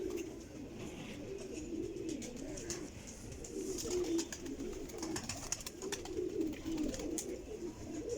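Pigeons coo in a low, throaty rolling rhythm, several birds overlapping steadily and close by, with faint background noise.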